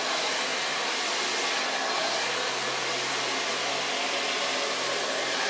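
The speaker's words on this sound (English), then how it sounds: "You need to be able to blow dry the hair smooth yourself." A hair dryer blows hair smooth in a steady, loud, continuous broadband roar that holds for several seconds with no speech over it.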